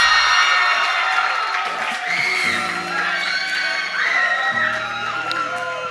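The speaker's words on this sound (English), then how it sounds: "Please give her a round of applause" A crowd cheers and whoops loudly over steady low music as a co-MC is welcomed onstage at the SasolTechnoX 2023 youth technology event. The noise holds strong and continuous for the whole span.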